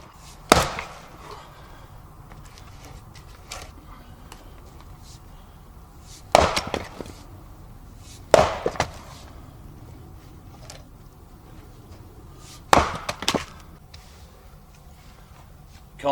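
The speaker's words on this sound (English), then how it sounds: "Can't beat the sound of splitting wood" Sharp wooden chops from splitting firewood at a cold winter woodland camp, four main loud cracks spaced several seconds apart with a few fainter knocks between, against a quiet outdoor background.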